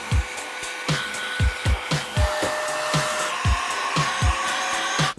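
Small cordless electric air blower rated at 40,000 rpm, running as a steady loud high whine that continues throughout, close up, with repeated low thumping knocks in an uneven rhythm beneath it.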